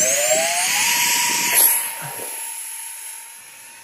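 A three-motor RC model space shuttle flies with a steady high electric motor whine that climbs in pitch early on, swells briefly, then slowly fades as it moves away.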